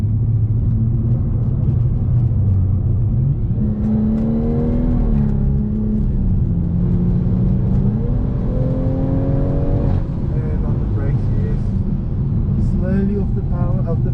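A BMW M240i engine climbs and settles through repeated throttle pulls on the Zwartkops Raceway track, its steady rumbling drone rising in pitch during each acceleration, with an instructor talking over it throughout.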